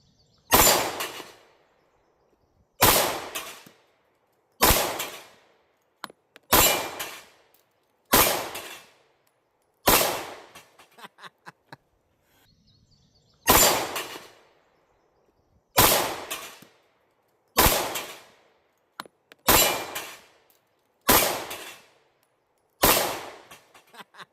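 A German 9mm Luger P08 pistol firing 9x19 rounds outdoors at a row of targets 15 yards away. About a dozen loud, separate shots come every couple of seconds, each a sharp crack with a decaying tail, with no voices between them.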